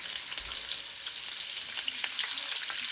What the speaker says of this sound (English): Now to that oil, we'll go in with some freshly chopped onions.